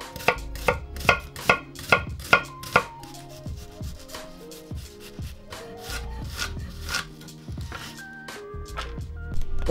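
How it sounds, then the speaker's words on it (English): A kitchen knife chops onion, garlic and ginger for a katsu curry sauce, making quick, evenly spaced thuds on a board for the first few seconds before fading under tonal background music. "For the sauce, we're gonna need a finely chopped onion, garlic, and ginger"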